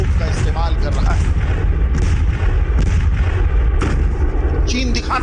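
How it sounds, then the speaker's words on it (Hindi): Chinese army artillery fires during a military exercise near the India–Tibet border, with armoured vehicles present, producing repeated loud booming blasts and bursts under a constant rumble, with talk running over the firing. "इसमें वो बख्तरबंद गाड़ियों और तोप का इस्तेमाल कर रहा है"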